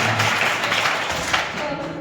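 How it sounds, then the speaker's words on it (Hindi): Students in a school classroom clap together in steady, dense applause that fills the whole moment, close and fairly loud, with no talk over it. "ताली बजाओ"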